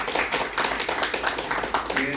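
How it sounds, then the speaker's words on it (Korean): An audience at a seminar in a press-center briefing room claps to greet a guest speaker, a brisk patter of hands with distinct individual claps, while someone talks. "크게 박수해 주시기 바랍니다"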